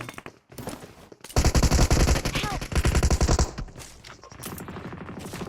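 Rapid bursts of machine-gun fire in the game BGMI (Battlegrounds Mobile India), loud and close, rattling in long strings with short pauses between volleys.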